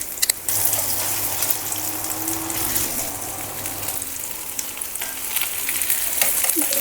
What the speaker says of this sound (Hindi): हम मीडियम टू लो पे फ्राई करेंगे